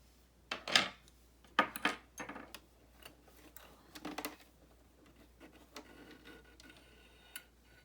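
Small clicks and snips as thread is cut off after coverstitching on a BabyLock Euphoria coverstitch machine, a few close, sharp taps and rustles spaced irregularly in a quiet room.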